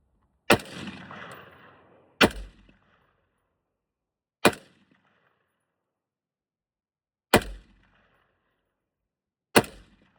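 A Knight's Armament KS-3 rifle fires five single shots at irregular intervals of about two to three seconds, each a sharp, loud report with a short ringing tail, heard alone outdoors.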